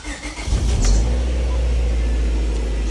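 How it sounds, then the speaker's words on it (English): A Honda Civic EK9 engine cranks and fires up, a brief starter whir followed by the catch, then a loud, steady idle with deep low rumble, close up and with no talking. "So we're gonna fire the car up and see how she sounds."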